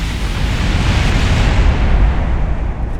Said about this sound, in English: Ignore the explosion.